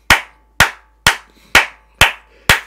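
A church congregation claps for the glory of God in six sharp, evenly spaced unison claps, close and loud, with silence between them and no talking.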